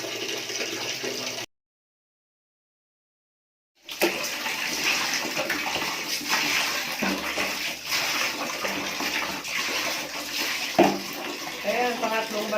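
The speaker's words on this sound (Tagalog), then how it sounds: "pangatlong banlaw na po" Laundry rinsed by hand in a tub of water, with continuous sloshing and splashing close by, a silent gap near the start, and then steady water agitation.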